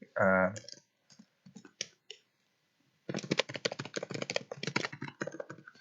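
Typing on a computer keyboard, scattered single key clicks followed by a quick run of rapid clattering keystrokes, close and crisp, after a brief burst of speech at the start.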